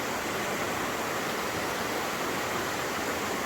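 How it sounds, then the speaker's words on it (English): A river flowing beneath the Glenfinnan viaduct in Scotland makes a steady, dense rushing hiss of water, constant and unbroken throughout with no voices. "a lovely river that's flowing under it"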